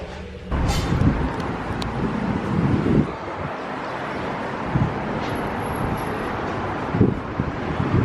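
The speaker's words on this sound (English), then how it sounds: "So windy today, but because it's windy, the waves and the sea look so beautiful." Strong wind at a beach in Dubai buffeting the microphone in uneven gusts, rumbling bursts rising and falling over a steady background roar.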